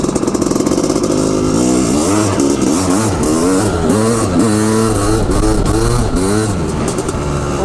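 An old Honda CR500 two-stroke motorcycle rides on a frozen lake, its engine loud and close, revving up and down repeatedly in rising and falling bursts.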